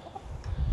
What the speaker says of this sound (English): This is our rooster, the big white one.